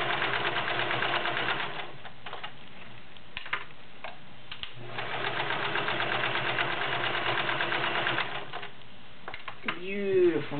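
A vintage Kenmore 1336 convertible free-arm sewing machine stitches through several layers of denim, giving a steady fast mechanical whir and clatter with brief pauses. A voice speaks near the end.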